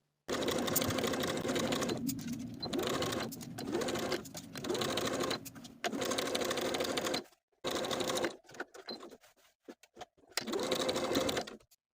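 A sewing machine stitches fabric for a ruffled top in loud, close runs of rapid whirring, stopping and starting several times with short pauses and a few choppy bursts near the end.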